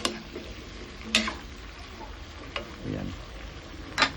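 Broccoli sautés in butter in a home kitchen pan, a soft low sizzle broken by a few sharp utensil clicks and stirring scrapes, with a brief spoken word.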